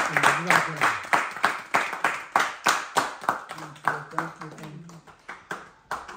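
A family get-together breaks into steady applause, many hands clapping in a brisk rhythm for several seconds, with voices murmuring underneath.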